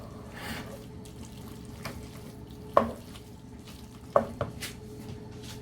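A cup of rice stirred in a frying pan for Mexican rice, with a soft scraping and a faint sizzle plus two distinct utensil clicks against the pan amid low kitchen background noise.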